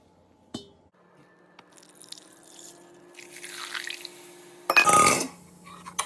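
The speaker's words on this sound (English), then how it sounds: "Turn off the stove and carefully add turkey broth." Turkey broth is poured into a hot pan of browned roux for gravy, giving a few faint clinks and then a rising sizzle and splashing gush that swells suddenly before settling into a quieter bubble.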